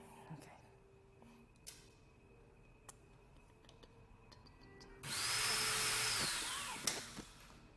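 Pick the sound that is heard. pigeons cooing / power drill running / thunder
power drill running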